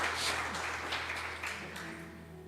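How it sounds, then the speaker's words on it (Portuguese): A church congregation applauding during a Portuguese-language worship sermon, a steady wash of clapping that stays fairly even and moderately loud throughout. "Aplauda Jesus, querido."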